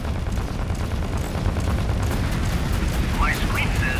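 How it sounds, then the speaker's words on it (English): Volley of missiles slams into a ship's hull in the space combat game Fractured Space, heard as a loud, continuous barrage of rumbling booms and crackling impacts, with a voice speaking under it. "you took a full volley of missiles to the hull"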